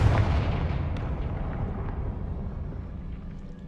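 A Confringo fire spell explosion in the video game Hogwarts Legacy: a single heavy blast at the start with a long rumbling decay that slowly fades, with no voices over it.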